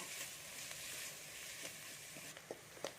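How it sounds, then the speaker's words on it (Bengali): Chopped onions fry gently in oil, giving a soft, steady sizzle with a few faint clicks and pops, quiet and close throughout. "এবার পেঁয়াজটা কিন্তু আমি একটু ভেজে নিচ্ছি।"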